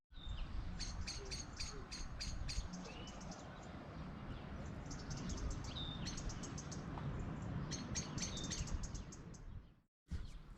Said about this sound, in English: I can virtually hear nothing apart from birds' song.